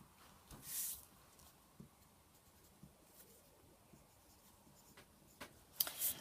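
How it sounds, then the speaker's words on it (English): Pencil marking paper alongside a ruler while measuring five centimetres for a maths construction, with brief scratchy strokes near the start and end over a quiet background. "using my ruler, I measure 5 centimetres across and I make a mark where 5 centimetres is."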